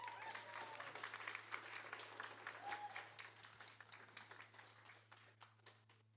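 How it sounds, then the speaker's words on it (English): Applause for a returning winner at a college innovation and entrepreneurship challenge: a modest audience claps fairly distantly and quietly, the sound loosening into scattered claps that fade out. "Will you all join me with some applause for last year's winner?"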